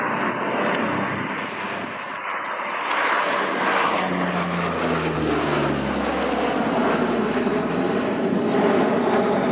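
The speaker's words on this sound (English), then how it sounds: "here she comes, ladies and gents, the C-130. Final low pass before they depart." Royal New Zealand Air Force C-130 Hercules turboprop making a final low pass at the Omaka airshow, a loud sustained engine drone whose pitch sweeps downward as the aircraft passes close by.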